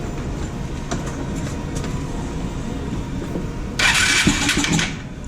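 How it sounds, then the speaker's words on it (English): A Vespa scooter that had been knocked over starts: a low, steady rumble gives way to a louder burst as the engine catches near the end, close up, with nobody speaking. "the bike looks like it's gonna start"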